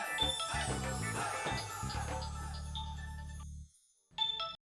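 Telephone ringing indoors, a repeated electronic ringtone that sounds for a few seconds, stops, then briefly starts again.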